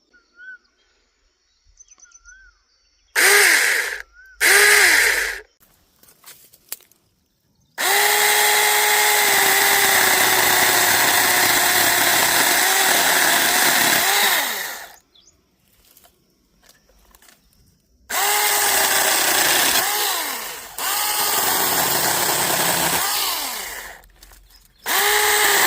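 A chainsaw cuts wood on a farm in several loud bursts of high, buzzing engine whine that rises and falls under load, with short quiet gaps between cuts.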